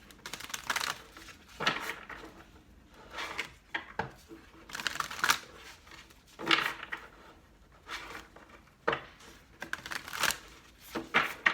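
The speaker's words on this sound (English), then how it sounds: "this will be our last shuffle" Papery riffling and soft slapping of oracle cards being shuffled repeatedly, in irregular bursts with short pauses between.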